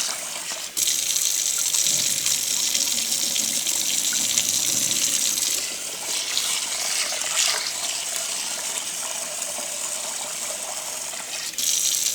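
Tap water gushing steadily into a bowl of rice for rinsing, a loud continuous splashing rush that shifts in tone as the bowl fills, with no talking.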